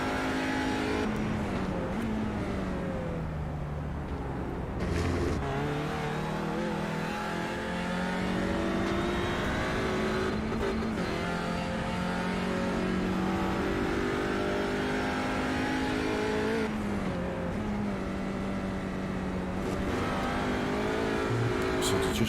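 A race car engine heard from the cockpit on board at Oulton Park during a race. It is loud and continuous, with revs climbing and dropping through gear changes and a few sharp breaks as the car brakes and lifts off.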